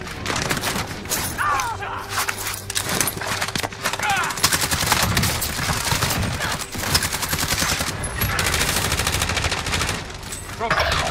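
In Call of Duty Warzone, bursts of rapid automatic gunfire and scattered single shots keep coming during a nuke event in Verdansk, loud and dense, with a player talking over them.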